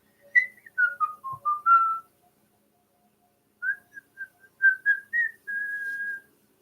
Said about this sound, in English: Wouldn't it be funny if I whistled like whistle while you work